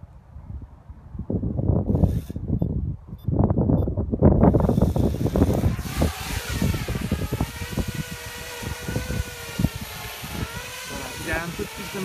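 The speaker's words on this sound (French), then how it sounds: "Il y a du vent." Wind gusting across a Parrot Bebop drone in flight, a steady rushing roar that buffets the microphone, with the drone's rotors whining underneath.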